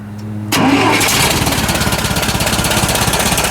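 A John Deere 135 small lawn tractor cranks and fires up, then settles into a loud, close, steady rhythmic chug as its small engine runs.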